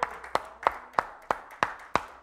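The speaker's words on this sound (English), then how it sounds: "Give the Lord a hand clap." Church congregation claps in unison, seven sharp, evenly spaced claps about a third of a second apart, fairly close and distinct with quiet gaps between them and no talking.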